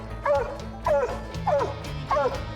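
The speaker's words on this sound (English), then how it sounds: "You hear the difference in her track bark there." A female hunting dog gives her trailing bark while tracking, four separate yelping, rising-and-falling bays spaced evenly about half a second apart, fairly close and clear.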